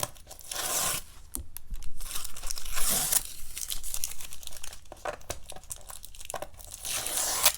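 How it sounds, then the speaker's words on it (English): Masking tape peeled slowly off a watercolor painting on paper, a run of crinkly ripping pulls with short pauses between strips, close and clear with no talking. "let's remove the tape and see what we got"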